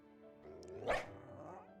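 Single short dog bark from the Pokemon Violet video game, quiet and close, rising over a soft background hum and fading quickly.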